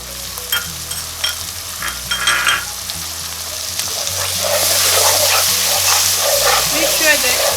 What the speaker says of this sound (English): Put in the chili paste.